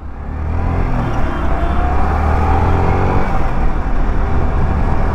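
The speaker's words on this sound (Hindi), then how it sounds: "मैंने हिलाया और फिर से बाइक जो है चलना चालू हो चुका है" A motorcycle engine running steadily again after the bike was shaken during a mileage test, a close, loud, even drone with no pauses and no voices.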